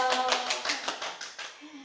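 Kindergarten children at a church Sunday service clap in a quick, even run of about half a dozen claps. The claps are close and moderately loud, with a voice briefly over them.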